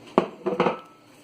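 Crab and macaroni salad is stirred in a bowl, giving a few close, brief clatters and scrapes of a utensil against the bowl, then fading to quiet.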